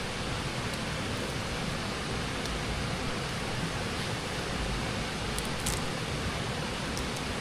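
Steady, dense rain falling outdoors, a broad continuous hiss with no pauses or changes in loudness.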